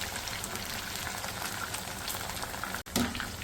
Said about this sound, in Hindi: बाकी को हम फ्राई करते हैं